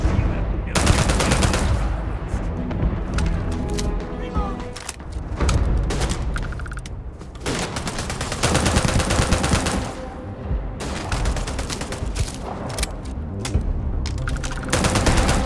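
Gunfire in the video game Starfield, loud sustained automatic bursts and heavy shots with booms, rattling on and off across the whole stretch with short pauses between volleys.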